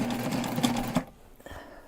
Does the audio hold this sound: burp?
no